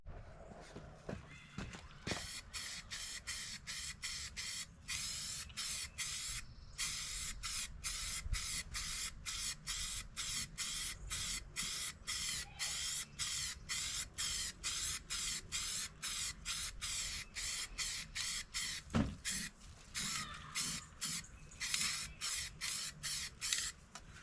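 Spray paint hisses in quick, regular bursts from a can as a multipurpose box is coated, each short puff close and crisp, repeating steadily throughout with brief pauses.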